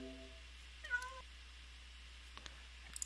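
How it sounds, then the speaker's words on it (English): A house cat meows indoors, one drawn-out mew followed by a brief rising meow, moderately close, then a few faint clicks and taps in a quiet room. "that cat's annoying me"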